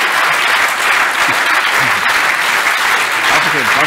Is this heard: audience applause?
yes